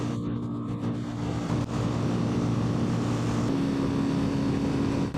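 A Yamaha Fazer FZ25 motorcycle at full throttle on a climb gives a loud steady engine drone with rushing wind, close and continuous throughout.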